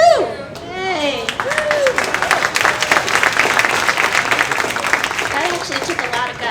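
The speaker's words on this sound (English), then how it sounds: "So give her another hand because that was really good." Audience applause fills a large school science symposium hall after a student's presentation, steady dense clapping with a few cheers and voices at the start, sustained throughout.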